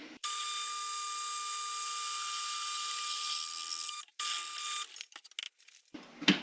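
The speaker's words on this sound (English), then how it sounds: "Got my drill press. Went ahead and put a 1/2" bit in there." A drill press with a 1/2 inch bit bores a hole, a steady high-pitched whine lasting about four seconds, then a short renewed burst followed by scattered clicks and knocks as the bit winds down.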